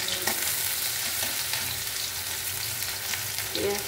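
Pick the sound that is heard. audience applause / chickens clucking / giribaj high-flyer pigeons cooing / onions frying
onions frying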